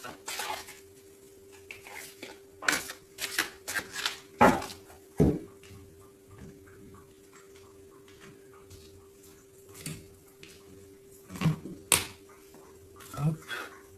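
A deck of tarot cards is cut and handled up close in a quiet room, with a scattered series of sharp papery snaps, taps and soft clicks separated by near-silent pauses.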